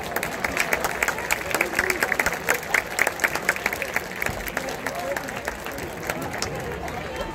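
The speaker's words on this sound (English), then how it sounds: "Fans, please help me say thank you by joining in a round of applause." Stadium crowd at a high school homecoming football game applauding at halftime, with broad, sustained clapping and crowd noise spreading across the stands, steady and moderately loud throughout.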